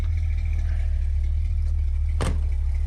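A Dodge D50 pickup engine with an exhaust leak idles steadily, a loud, even low rumble throughout with one sharp click near the end.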